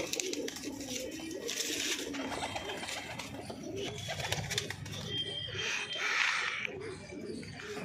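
Punjabi Malwai pigeons coo in low, soft, repeated calls close by, with bird noise and flutters around them.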